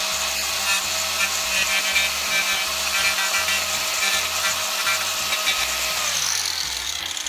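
Loud, continuous buzzing of a chainsaw etching a wooden drum, with a steady engine drone and rough scraping texture throughout.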